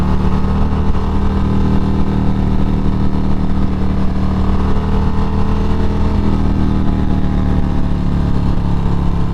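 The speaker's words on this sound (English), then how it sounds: "this bike still has a little bit of pickup for being such a heavy bike" A heavy Harley-Davidson Road Glide Special accelerating on the road, its engine droning loud and steady from start to finish, close and unbroken, with no talk over it.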